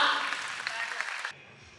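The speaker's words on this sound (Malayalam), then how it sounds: "നല്ലൊരു കൈയടി എല്ലാവരും അനുശ്രീക്ക് കൊടുക്കുക." An audience at a film trailer launch event applauds to welcome actress Anusree onstage, a dense burst of clapping from a crowd that carries for just over a second before cutting off abruptly.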